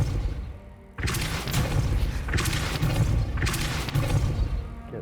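Depulso force spell cast in the Hogwarts Legacy video game: three heavy booming blasts with whooshing, crashing tails arrive in quick succession after a brief quiet start, loud and full throughout.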